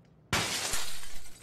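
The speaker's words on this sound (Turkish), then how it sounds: "Cam kırıyor lan." A glass window shatters in the PUBG video game, a sudden loud crash followed by a sustained spray of breaking shards, with no talking.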